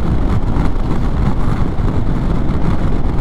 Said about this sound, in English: Which we certainly can with this six-cylinder torquey engine.